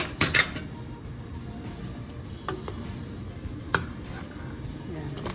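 A metal lid clatters open, then a utensil scrapes and knocks around inside a pot of boiling chicken tinola with upo, with faint kitchen background and occasional clinks.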